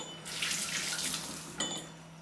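Running tap water splashes steadily over a persimmon (kaki fruit) being washed under the faucet, a close hiss that continues for a couple of seconds with a brief surge near the end and no talking.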